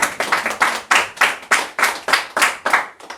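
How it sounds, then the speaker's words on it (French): A church congregation claps together in a steady, loud rhythmic beat, about three claps per second, close and even, with no talk over it. "Laisse-moi applaudir le Seigneur pour notre soeur."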